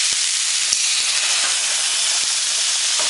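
Loud, steady steam hiss fills the air as water is poured into a hot pan, with a few faint clicks scattered through it.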